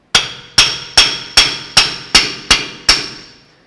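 A hammer strikes a nut threaded onto the front axle of a 2005–2016 Toyota RAV4 during wheel hub replacement, ringing out in eight sharp metallic blows at a steady, even pace, each one loud and close and decaying quickly.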